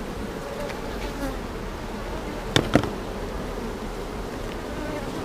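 Honeybees from a swarm drone steadily inside a hive, a dense, continuous close buzz, with a couple of brief knocks partway through.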